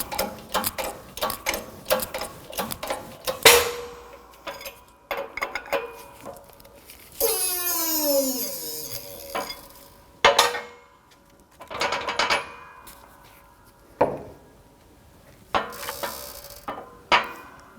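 Press pushing the hub out of the wheel bearing on a 2007-2017 Jeep Patriot 2.4L in a workshop: repeated ratcheting clicks and metallic clanks, a descending creaking groan partway through, then more clunks and knocks.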